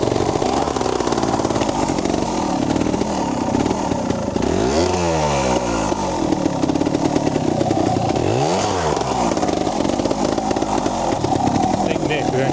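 A trials motorcycle is ridden hard with a loud, rasping engine that revs up and down in two clear surges. Someone talks over the engine noise.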